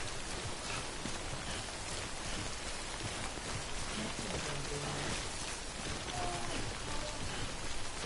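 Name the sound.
rain in a video game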